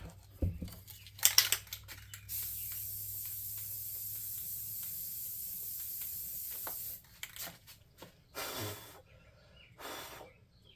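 An aerosol can sprays clear coat onto model trees in one long, steady hiss of about five seconds, then two shorter bursts, with a few rattles and handling clicks around it.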